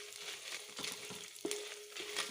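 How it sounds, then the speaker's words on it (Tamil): Whole spices such as cloves and peppercorns sizzling and popping softly in a pan on low heat while being stirred, with faint scraping taps under the quiet frying, no speech. "இதை போட்ட மசாலா பொருட்கள்லாம் சிம்மில் வச்சு லைட்டாக கிளறி விடுங்க"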